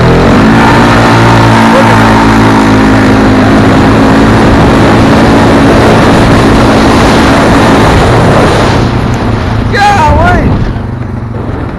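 A 2020 Polaris Sportsman 570 ATV revs hard and loud from a standing start, its engine note holding steady and strong before easing off near the end.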